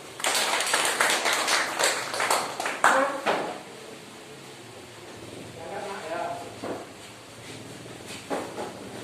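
Students in a classroom giving a short round of applause for a presenting group, scattered claps loudest at first then thinning out, followed by murmured talk and a few late claps.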